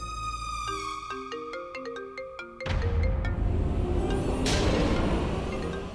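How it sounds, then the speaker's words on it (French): A mobile phone rings with a clear, repeating electronic melody of stepped tones. After a few seconds the loud ringtone is joined by broad rushing noise and a busier background, with no talk over it. "Ton téléphone ne cesse de sonner"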